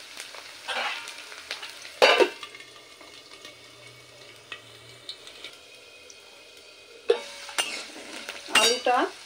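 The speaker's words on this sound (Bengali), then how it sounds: "আলুটা আগে ভেজে নেব" Potatoes fry in a pan, a low soft sizzle broken by a few sharp clanks and scrapes of a spatula stirring against metal, close and without talk.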